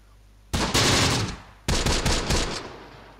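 Bursts of automatic weapons fire in the Close Combat: The Bloody First war game, two loud sustained volleys of rapid shots separated by a short gap, close and dominant with no talk.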